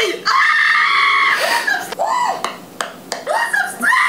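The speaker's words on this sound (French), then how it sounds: "Il crie trop." Loud, shrill screams repeat in a Hello Neighbor gameplay session, a long sustained shriek followed by several shorter yelps in quick succession.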